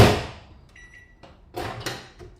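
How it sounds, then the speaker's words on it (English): Sweet corn is put into a microwave oven: a loud close clunk, a brief electronic beep, then a couple of knocks and clatters as the door and contents are handled. "So I'll just put it in the microwave now."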